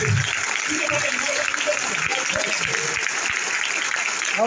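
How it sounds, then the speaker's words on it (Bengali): An audience at a company product meeting applauds in a dense, continuous patter of clapping, with voices talking over it throughout. "Let's give him a round of applause, please."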